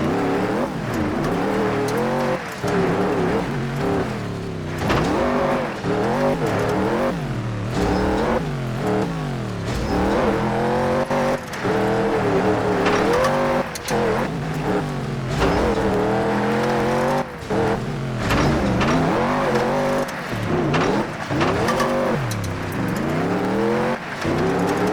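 Race cars from the video game TOCA Race Driver 3 on a qualifying lap: continuous loud engine roar that rises and falls through repeated gear changes and revving, with occasional tire squeal and no talking.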